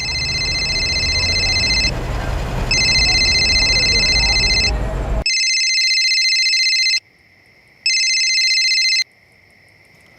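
A phone's outgoing ringback tone repeats in a steady pattern of electronic pulses with short gaps while a call is placed to Govardhan uncle, first over a noisy background and then in near silence.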